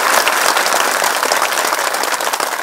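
Dense, steady applause from a crowd at a public rally in Jalna, many hands clapping together continuously at close range with no voices over it.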